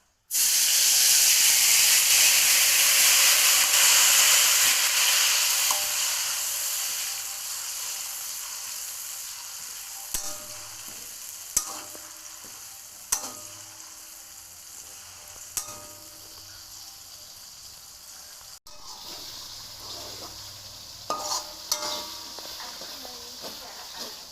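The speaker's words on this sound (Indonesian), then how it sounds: "Minyak panas, tumis bumbu halus hingga berubah warna dan harum." Ground spice paste for Indonesian rica-rica sautéing in hot oil: a loud, steady sizzle and hiss that eases after a few seconds into a softer fry, with occasional clinks from stirring.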